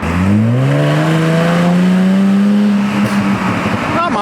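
A Jaguar F-Type convertible engine revs loudly, its note climbing and then holding as a steady roar, before dropping off into a few crackling pops from the exhaust near the end.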